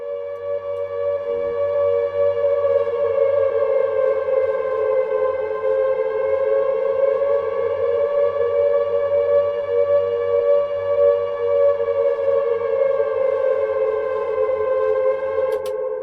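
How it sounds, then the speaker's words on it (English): A loud, sustained wailing siren drones steadily with a rich, echoing reverberant tail, alone without any voices. "So we get the general idea. It's a siren."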